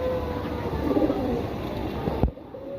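Several pigeons coo in a soft, overlapping murmur close by, ending with a sudden knock before the sound drops away.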